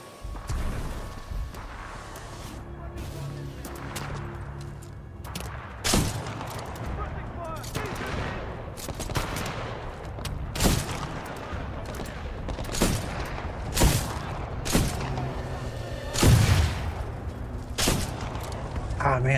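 Semi-automatic sniper rifle shots in Titanfall 2 crack out one at a time at irregular intervals over steady game noise, with a voice talking in between.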